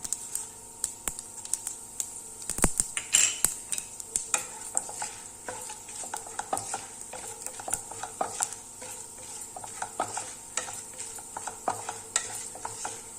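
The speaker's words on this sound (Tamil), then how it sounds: "நல்லா பொரிஞ்சு செவந்து வரட்டும்" Chana dal, urad dal and cumin fry in a pan for uppu urundai, with a steady soft sizzle and repeated scraping, tapping stirs of a spoon against the pan, close by and with no talking.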